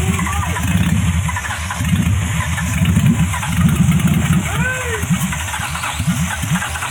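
A Nissan Skyline engine cranks over and over without catching, a low, uneven chugging that runs close and steady throughout, with faint background noise.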